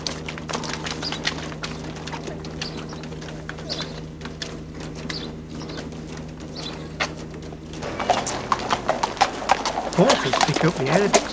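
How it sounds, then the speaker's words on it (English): Horses trot down the aisle of a livestock show barn, their hooves clip-clopping in a loose, busy patter that grows louder and denser near the end over a steady low hum and crowd murmur. "Horses pick up the air of excitement as they arrive and trot down the aisle."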